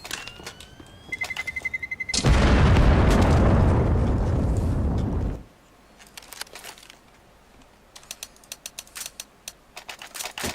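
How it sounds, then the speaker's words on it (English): A grenade detonates in Counter-Strike: Global Offensive, a loud, close blast that roars for about three seconds and then cuts off abruptly, followed by quieter rapid in-game clicks and ticks. "Grenade."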